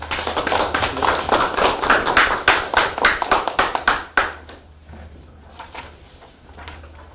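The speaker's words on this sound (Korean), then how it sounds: "박수로 맞아주십시오." Applause at a press conference welcoming a county mayoral candidate, a dense burst of clapping from a small crowd lasting about four seconds before quickly dying away into room quiet, with no talking.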